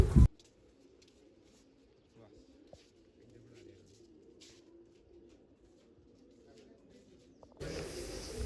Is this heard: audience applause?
no